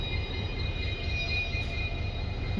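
The Mysore–Talaguppa Intercity Express arriving at Bhadravathi station gives off a steady low rumble with a thin sustained high whine above it, continuous and close, with no voices.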